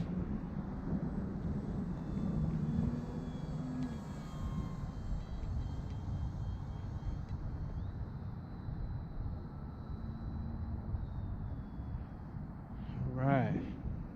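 Radio-controlled Bushwacker foam model airplane in flight outdoors, its small electric motor giving a faint, steady distant drone under wind noise, with a brief sweeping tone near the end.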